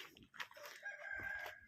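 A rooster crows close by on a poultry farm, a short bright call rising over the clucking of chickens and steady farmyard background.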